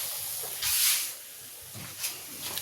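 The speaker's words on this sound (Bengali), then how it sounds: "এমতো অবস্থায় আমি একটু ঘি দিচ্ছি" Ghee spooned into a pan of amla (Indian gooseberry) candy cooking down to a reddish syrup gives a soft, close hiss that swells briefly, then settles into a low steady sizzle with faint pops.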